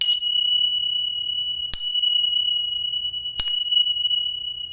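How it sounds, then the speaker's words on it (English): Three clear, bright chimes ring out at even intervals during a yoga class, each sustaining a long shimmering tone that overlaps into the next, with a low hum underneath. "We close our practice the way we began, with the sound of 3 chimes."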